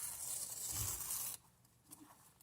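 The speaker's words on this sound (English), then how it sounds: "you don't have to use scissors, you can just rip." Paper is torn by hand for a mixed media collage, a bright, crackling rip lasting over a second that then stops abruptly, leaving only faint rustles and small handling noises, close and fairly quiet, with no talking.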